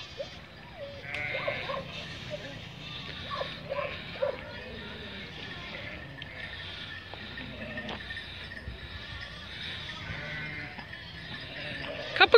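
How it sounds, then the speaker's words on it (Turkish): Sheep returning from the herd bleat close by on a small farm, scattered calls mixed with a dog's barks and yips over a busy outdoor background with faint talk. "Koyunlarımız geldi arkadaşlar güdümden."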